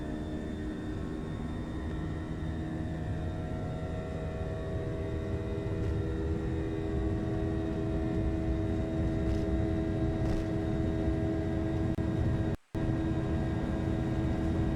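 Airliner engines drone steadily during the takeoff roll of a St Patrick's Day flight to Dublin, a loud sustained whine and rumble with layered tones that holds for the whole stretch, briefly cut out near the end.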